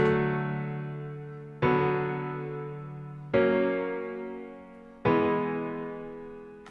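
Four sustained synth chords, each struck cleanly and left to fade slowly before the next, evenly spaced and fairly soft.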